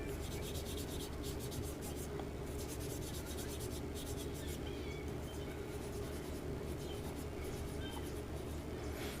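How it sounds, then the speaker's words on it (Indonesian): Quiet, continuous rubbing and scraping of fine sandpaper on an electric fan motor shaft, with short bursts of faster strokes over a low steady hum. "Ini bagian as kita amplas juga menggunakan amplas yang halus ya"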